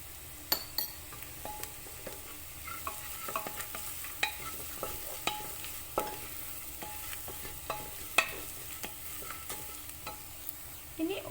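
Sautéed onions fry steadily in a pan for Nawabi butter mutton as coriander powder is stirred in, a constant sizzle broken by regular scrapes and light clinks of a spoon against the pan, with no talking.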